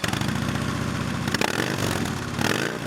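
A row of Harley-Davidson motorcycles runs outside a hotel in Harrisonburg, Virginia, on a morning just after rain, giving a close, throbbing engine rumble with a revving swell and a brief clatter midway.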